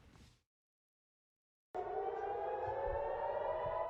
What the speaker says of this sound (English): the chilling sound of air raid sirens blare for a fourth straight night